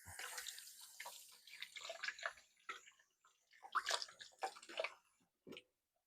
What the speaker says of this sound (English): Let me give my hands a rinse here real quick.